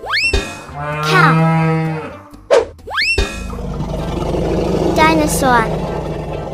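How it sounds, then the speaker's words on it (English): A cow moos in a playful cartoon animal sound sequence, long low drawn-out calls near and loud, broken by a springy boing effect, then a busier rumbling stretch, without any spoken words. "Cow."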